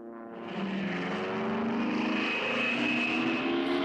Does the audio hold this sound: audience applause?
no